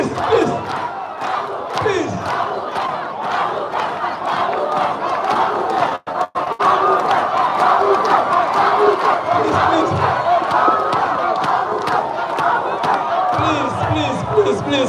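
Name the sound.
crowd shouting at a debate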